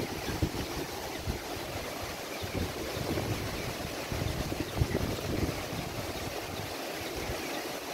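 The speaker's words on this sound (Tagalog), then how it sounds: "Kasi malakas yung hangin." Blustery wind roaring steadily outdoors, rumbling against the microphone with small gusts, no voices present.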